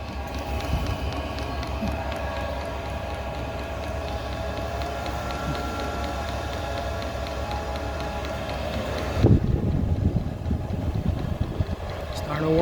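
Cheap diesel heater running steadily after a cold start following six months in storage, a continuous loud droning hum with an abrupt shift in tone near the end.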